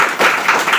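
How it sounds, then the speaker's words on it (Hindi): A short, loud burst of audience clapping at a gathering rings out as a dense, close wash of hand claps that rises and falls over less than a second. "एक बार जोरदार ताली होना चाहिए।"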